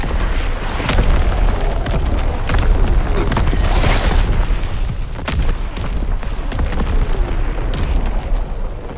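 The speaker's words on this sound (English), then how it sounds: "Incoming enemy artillery! Get to cover!" Incoming artillery shells explode in Call of Duty WW2, a continuous rumbling barrage of deep booms and bursts rolling one after another, loud and close, with no pause.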